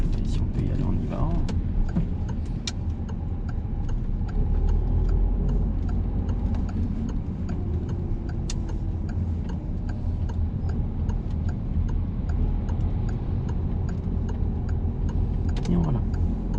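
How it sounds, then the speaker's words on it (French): Rhythmic ticking of a car's turn signal indicator inside a driving-school car during a driving exam route, steady clicks over road and engine rumble, with an instructor's voice in the cabin. "Clignotant."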